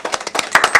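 A short burst of audience clapping at a gathering, a handful of close, sharp claps in a quick uneven rhythm, loud and alone without any talk.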